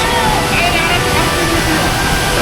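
A waterfall swollen by rain pours in a steady, dense roar, loud and close, with no break for the whole short stretch.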